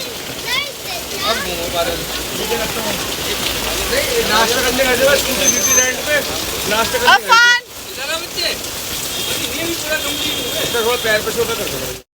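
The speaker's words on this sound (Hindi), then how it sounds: "बहुत प्यारी धीमी धीमी सी बारिश थी" Light rain falls in Mussoorie, a continuous soft patter and splash that runs through the whole stretch while people talk nearby, briefly broken by a sharp handling sweep.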